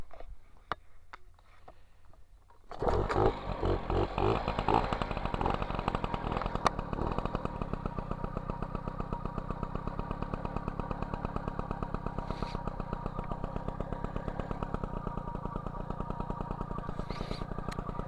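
An MBK 51 Magnum moped with a 15 PHBG carburetor, freshly adjusted with a new needle clip position, starts up and settles into a steady, loud two-stroke idle with a rapid, even putter that continues without pause.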